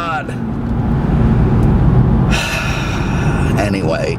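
A Lingenfelter-tuned 630 hp 2013 Cadillac CTS-V Coupe engine roars loudly up close, a deep sustained rumble that swells and shifts pitch partway through, with someone talking over it.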